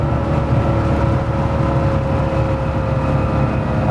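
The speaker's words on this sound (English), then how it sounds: "I do love the way those PMO ITB stacks sound on this car. It has an induction roar that is just out of this world." Modified early Porsche 911 flat-six fitted with PMO individual throttle body stacks, a steady loud engine drone and induction roar heard from inside the car, holding fairly constant throughout with no talk.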